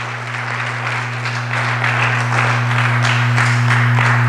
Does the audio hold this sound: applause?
yes